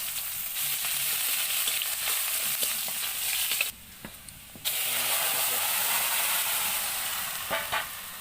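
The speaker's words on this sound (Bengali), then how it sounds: "পেঁয়াজ কুচি দিয়ে দিচ্ছি" Chopped onions frying in oil with bay leaf and cumin, a bright hissing sizzle that drops out for about a second, then returns with scattered stirring clicks and crackles.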